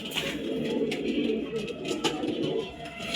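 Pigeons coo steadily in a pigeon loft, a dense, continuous murmur of overlapping low calls from many birds close by, with no talking.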